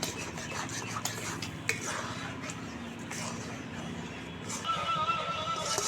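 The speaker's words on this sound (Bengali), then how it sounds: "নেড়ে ছেড়ে এটা খুব ভালো করে জাল করে নেব আমি।" Thick palm fruit pulp mixture is stirred in a pan as it cooks down toward dryness, with repeated scraping and clinking of a utensil against metal over a faint sizzle, close and quiet.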